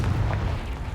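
A Confringo blast spell fired in a Hogwarts video game, a dense, rumbling burst that fills the whole second with low booming energy and steady loudness.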